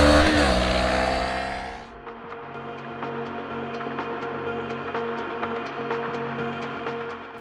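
A 2024 Kawasaki Ninja 500 motorcycle revs loudly and accelerates before dropping to a quieter, steady engine hum with a faint ticking rhythm.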